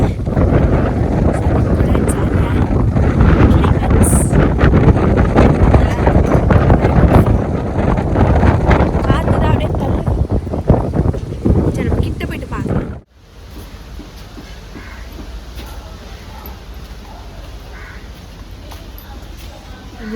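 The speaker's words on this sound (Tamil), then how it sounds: "பயங்கரமாக காற்று அடிக்குது" Strong wind buffets the microphone with a loud, continuous roar at the Gateway of India and Elephanta Caves, Mumbai, that cuts off abruptly, leaving a quieter, steady background hiss.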